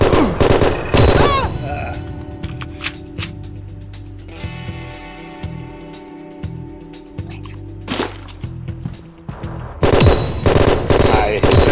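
Rapid gunfire from the multiplayer FPS Capsule Wars, built in Godot 3.2, with dense bursts at the start and end and sparser shots in between, set against in-game background sounds.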